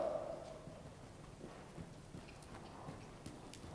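A ridden horse moves along at a walk during an evening riding lesson, its hooves giving soft, muffled clip-clops under steady background noise.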